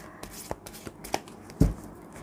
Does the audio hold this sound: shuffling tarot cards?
yes